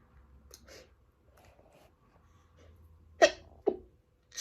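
A short stifled sneezing fit, two sharp muffled bursts close together, preceded by quiet breathing and faint sniffing, close to the listener in a quiet room.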